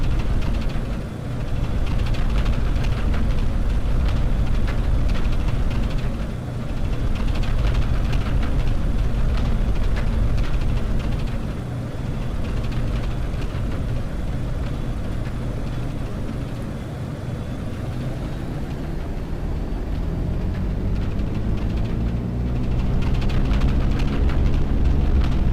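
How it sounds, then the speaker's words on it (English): Twin piston engines of a BN-2 Islander in Microsoft Flight Simulator (BlackBox Simulation add-on) drone steadily and loudly from close by for the whole stretch, with a rising tonal sweep emerging near the end and no talk. "Not gonna lie, I am loving these engine sounds though."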